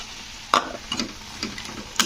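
Spice paste frying with green tomatoes in a pan, a light sizzle broken by several distinct scraping stirs and a couple of sharp utensil knocks.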